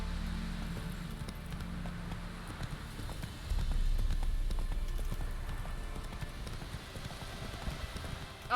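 Hooves of the horse Roach drum in a fast, steady gallop in The Witcher 3, a continuous rumbling clip-clop that swells midway, with faint game ambience and no clear speech.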